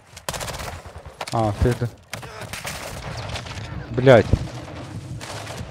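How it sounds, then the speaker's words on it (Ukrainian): Bursts of automatic gunfire in the video game Call of Duty Modern Warfare II, DMZ mode, sounding as close rapid volleys with brief gaps, while a player talks and curses over the shots. "Ще хтось стріляє, я не можу."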